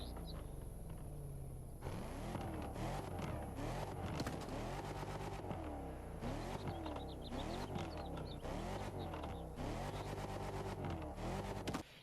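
A Jeep Wrangler Rubicon 392 V8 engine in The Crew Motorfest revs and climbs through repeated gear changes, loud and close, its rising pitch sweeps broken by brief shift dips, with a high steady whine underneath throughout.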